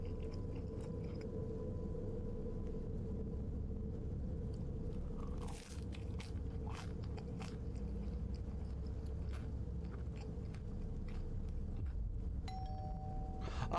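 Doorbell at the front door in the first-person horror game Fears to Fathom: Carson House, a short chime standing out once over a steady ambient house hum, with a few faint knocks and clicks scattered around it.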